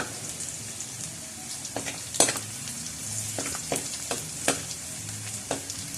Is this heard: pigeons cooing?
no